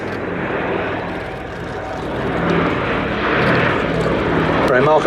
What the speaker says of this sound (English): Andy Dixon making a run past with 2 of the engines smoking